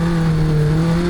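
A racing video game car, its engine droning loud and steady as the tires lose grip, forms a constant, close, unbroken roar.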